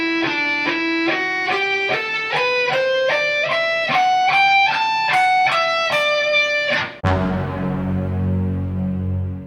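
Electric guitar plays a solo slowly, a steady run of sustained notes climbing step by step, then a final chord rings out alone with a long decay.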